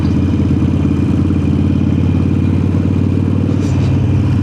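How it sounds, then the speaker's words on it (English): A Harley-Davidson Sportster 883 with a Vance and Hines exhaust fitted with quiet baffles runs close by, a loud, steady, throbbing engine note that holds evenly throughout without speech. "just so I can have a proper listen of what this exhaust sounds like"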